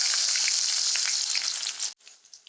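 Onions frying in a pan for pav bhaji, a loud steady sizzle with crackling pops for about two seconds, then cutting off abruptly to near quiet.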